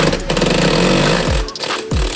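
A smashed Audi R8 engine cranks loudly up close with a dense mechanical roar. It cuts out briefly twice and restarts in sweeping surges.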